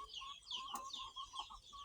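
Chickens clucking steadily in a farm garden in the morning, a hen's repeated clucks at moderate distance over a light outdoor background, with no talk.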